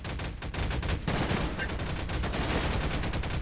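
Gunshots ring out on a movie set during a staged scene: a dense, continuous volley of fairly loud, rapid cracks with no clear pauses.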